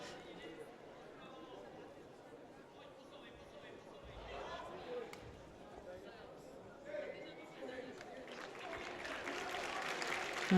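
A judo arena crowd at a European Open event in Prague applauds a fighter's effort, scattered clapping and murmuring chatter that build toward the end beneath ongoing commentary talk.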